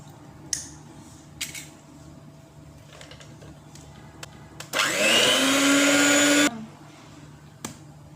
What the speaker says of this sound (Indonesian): Ini habis itu kita mixer sampai rata.